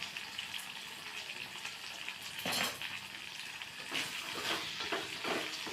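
Food sizzles and crackles steadily in a hot pan while sautéing for a tripe curry, with a few louder stirring bursts and scrapes, close by and with no talking.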